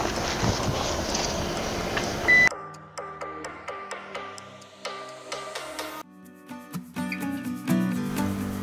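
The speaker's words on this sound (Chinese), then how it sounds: "尾门就会自动开启。" The power tailgate of a Lexus RX 450h hybrid opens automatically after a foot sensor is triggered, giving a short beep and then a smooth whirring motor hum with faint mechanical clicks, heard close by.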